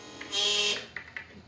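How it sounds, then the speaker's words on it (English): Electric fuel pump on a turbocharged Datsun's fuel injection system whirring briefly to build pressure, a steady high buzz for about half a second followed by a few faint clicks and ticks. "I'll run this fuel pump again."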